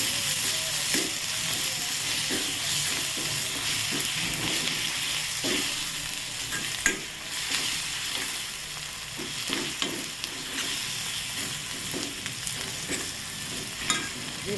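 Spice paste with turmeric, chili powder and fresh coriander being sautéed in a pan for a pea curry, with a steady sizzle and frying hiss and repeated clicks of a spoon stirring against the pan, close and continuous, with no talk.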